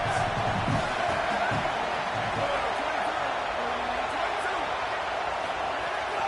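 A stadium crowd roars in an American football video game, making a dense, loud, continuous wash of noise with no letup, while a commentator talks over it.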